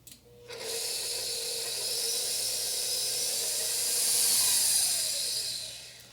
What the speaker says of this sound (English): And we're going to mix this up.